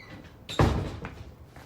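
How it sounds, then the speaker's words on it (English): A door swings shut with one solid thud and a short rattle, fairly close in a quiet room, followed by faint small knocks. "I'm just going to close that door for all the mozzies get in."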